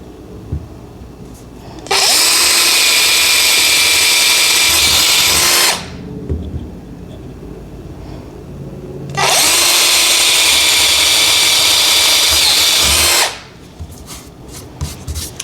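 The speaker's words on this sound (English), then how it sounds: "I'm just gonna drill where I mark my holes" Power drill boring holes for cabinet handle hardware in a bathroom, two long steady whining bursts of several seconds each, loud and close, separated by quiet pauses.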